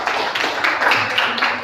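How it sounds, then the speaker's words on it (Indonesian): Students in a classroom clap for a fellow group, a dense steady patter of many hands lasting under two seconds with no talk over it. "Tepuk tangan dulu untuk kelompok 1."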